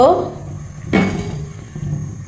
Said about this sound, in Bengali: এখানে একটি কড়াই বসিয়ে দিলাম